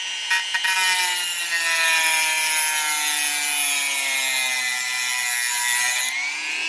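A Dremel rotary tool fitted with a single sanding disc cuts through a wooden part of an elastic-powered model airplane: a loud, steady, high-pitched whine that holds for several seconds before abruptly dropping away.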